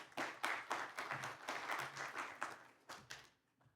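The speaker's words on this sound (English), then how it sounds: "Thanks also for the big round of applause for Waterlinks." A conference audience gives a short burst of applause, with quick overlapping claps that are fairly faint and fade out after a few seconds.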